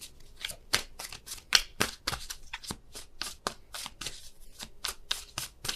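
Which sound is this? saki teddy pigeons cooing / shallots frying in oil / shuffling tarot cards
shuffling tarot cards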